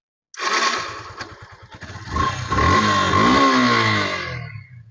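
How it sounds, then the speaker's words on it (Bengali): A used Yamaha FZS version 3 motorcycle in good condition is kicked over with a few cranking pulses, then the engine catches and revs up briefly before settling into a close, loud idle. "আমি স্টার্টে বাইকটি সাউন্ড করে শোনাবো আপনাদের"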